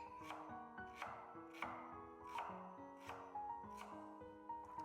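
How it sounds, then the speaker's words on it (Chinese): Knife chopping half an onion into small pieces on a board, steady rhythmic thuds about every three quarters of a second, close and fairly quiet with no talk. "然后给它切成洋葱碎"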